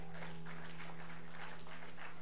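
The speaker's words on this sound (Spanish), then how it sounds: "dale un aplauso a Cristo y celébralo" Steady applause from a church congregation, dense clapping that continues throughout with a low hum underneath.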